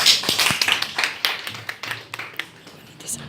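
An audience at a statistics presentation gives a short round of applause, a few quick uneven claps up close that thin out toward the end.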